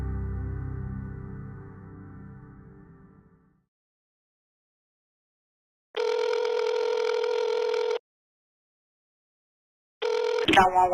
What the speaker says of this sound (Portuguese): ela pega o telefone e disca